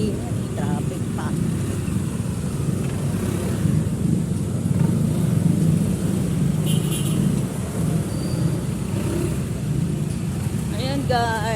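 Cars and motorcycles sit in a slow, stalled traffic jam, giving a steady, dense rumble of idling engines throughout, with faint voices in the background.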